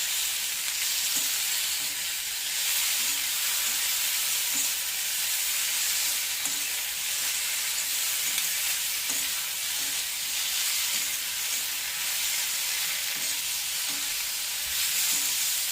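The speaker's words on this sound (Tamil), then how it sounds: "இங்கே ஒரு ரெண்டு நிமிஷத்துக்கு நல்லா வதக்கி எடுத்துக்கலாம்" Ivy gourd with curry leaves sautéing in a pan, a continuous even hiss of frying with occasional soft stirring clicks, steady and moderately quiet throughout.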